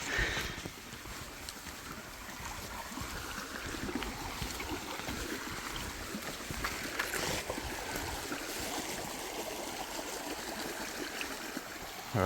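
A forest creek flows steadily nearby, a continuous broadband wash of running water with no voices over it.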